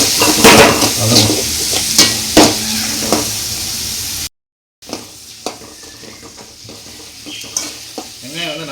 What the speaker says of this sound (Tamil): வெங்காயம் வந்து நல்லா ஃபைனாக கோல்டன் கலரில் வந்து ஃப்ரை ஆகும்